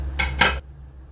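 Two quick metallic scrapes of a spoon stirring curry gravy for a cashew gathiya dish in a pot, close and short, then quiet.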